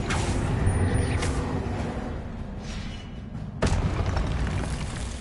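Blasting spell explosions in the Hogwarts Legacy video game, a loud booming burst followed by a rumbling tail and a second sharp blast near the end, with no talking.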